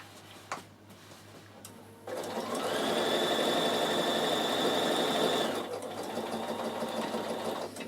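A Bernina sewing machine with jewel feed stitches a trouser pocket, its needle running in a fast, even mechanical chatter that starts up after a quiet pause and then eases to a lighter hum, loud and close.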